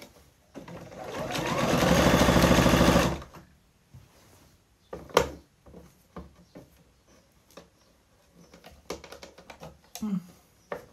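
A sewing machine fitted with a zipper foot sews a zipper into a skirt in one steady, close, whirring run of about three seconds. Handling clicks and fabric rustles follow.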